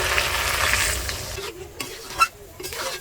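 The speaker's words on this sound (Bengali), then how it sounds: "আলু ভাজাটা এবার আমি দিয়ে দেবো, মাংসের সাথে ভালো করে কষিয়ে নেবো।" Chicken and fried potatoes stir-fried together in a pan for a Bengali chicken kosha, with loud steady sizzling and stirring followed by a few scraping, clattering strokes of a spatula against the pan.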